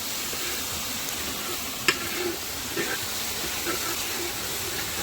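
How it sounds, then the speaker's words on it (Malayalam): Ginger garlic paste, two tablespoons, frying and being stirred in a pan for prawn roast, giving a steady, even sizzle with a few sharp scrape clicks from the stirring. "രണ്ട് ടേബിൾ സ്പൂണ് ഇഞ്ചിയും വെളുത്തുള്ളി പേസ്റ്റ് ഇതിലേക്ക് നമ്മൾ ഇടയിലിട്ട് നന്നായി ഒന്ന് മിക്സ് ചെയ്ത് കൊടുക്കുക"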